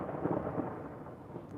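Thunder from a very close lightning strike rolls as a soft, low rumble during a storm, faint and continuous with a light wash of rain behind it.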